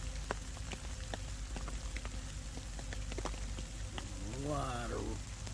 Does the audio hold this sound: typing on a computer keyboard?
no